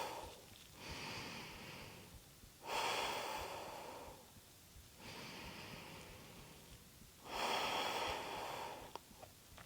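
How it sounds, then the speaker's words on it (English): Slow, steady breaths during a yoga exercise, with each long inhale and exhale clearly audible and close, alternating softer and stronger cycles in an otherwise quiet room. "let's just take a few breaths here with a neutral,"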